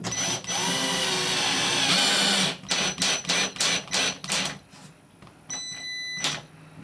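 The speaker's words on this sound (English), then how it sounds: "we can just take our bracket and our screw, and then we can just screw that into the fixing." A power screwdriver drives a screw through a bracket into a plasterboard fixing, a sustained whirring run followed by a series of short bursts as the screw is snugged home.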